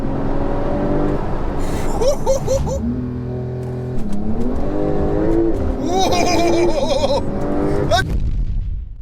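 A Porsche 911 Turbo S accelerating hard through the gears, its engine climbing loudly in pitch, dropping at each quick shift and rising again in a close, sustained roar.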